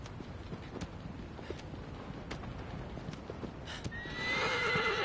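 Horse in the video game Shadow of the Colossus, with soft hoofbeats clopping at a steady pace before a loud, bright neigh breaks out near the end.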